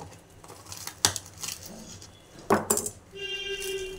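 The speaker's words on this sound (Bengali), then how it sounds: "এবার আপনাকে আমি কেটে দেখিয়ে দিচ্ছি।" A knife cuts through a crisp fried nacho snack, giving a few sharp crunching clicks at close range against a quiet kitchen background, followed by a steady hum.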